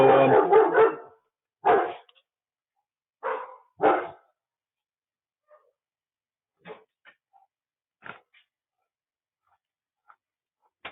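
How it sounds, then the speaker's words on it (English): A dog barks in several loud bursts near the mic at the start, then quieter scattered barks and yips follow after pauses, in a home setting. "Sorry for the interruption with the dog there."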